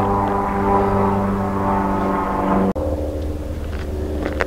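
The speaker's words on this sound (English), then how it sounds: "there's a plane going over" A propeller plane passes over a conservation area with a loud, steady engine drone that shifts in tone midway and then carries on a bit lower.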